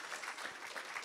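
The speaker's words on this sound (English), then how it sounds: "That deserves a clap." Brief round of clapping from a church congregation, soft and somewhat distant, a short patter of hands with no voices over it.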